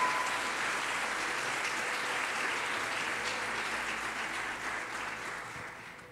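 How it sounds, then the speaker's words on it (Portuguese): A church congregation applauds steadily during an Easter resurrection sermon, a dense, even wash of clapping from many hands that holds throughout and fades slightly toward the end. "Você pode aplaudir a Jesus por esta palavra?"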